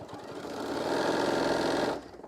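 Sewing machine stitching a shoulder wrap, running steadily for about two seconds with an even, rapid mechanical whir at close range before stopping abruptly.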